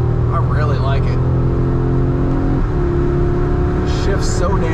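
An Audi S3 engine revs hard and climbs in pitch, with a quick gear shift midway before accelerating again on a mountain road, loud and close.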